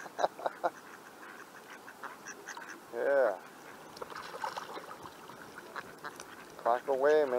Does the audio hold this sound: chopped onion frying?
no